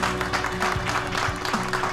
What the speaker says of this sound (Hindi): इन दोनों के लिए भी जबरदस्त तालियां होनी चाहिए